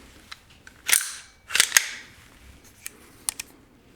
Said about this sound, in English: Let's close the dust cover back up to keep this gun nice and clean.